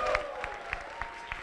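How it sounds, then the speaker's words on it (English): A quiet, distant audience at a campus youth-vote event claps and cheers, a steady patter of applause with a few sharper peaks, heard faintly throughout. "How about a cheer for Brian and Danny,"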